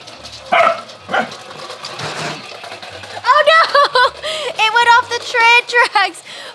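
A corgi gives a few sharp barks and yips, then a run of whiny, high vocalizations, close and loud, with a person speaking briefly.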